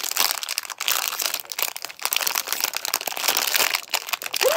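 A share-size plastic bag of gummy bear candy is crinkled and tugged open close by, giving irregular bursts of crackling and rustling that come and go unevenly.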